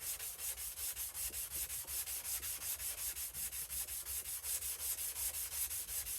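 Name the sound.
flattening the sole of a clone 102 block plane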